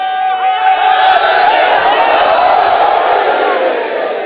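Crowd at a religious gathering shouting in unison as a joint response, a dense roar of many voices sustained loudly throughout without pause.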